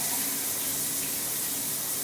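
Rainfall shower head in a Cancún resort junior suite bathroom running steadily, a constant close hiss of spraying water with no talk.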